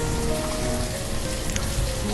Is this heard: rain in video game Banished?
yes